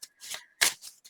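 Tarot cards are shuffled in quick riffling bursts, a handful of crisp papery flutters with short gaps between, close and fairly quiet with no voice.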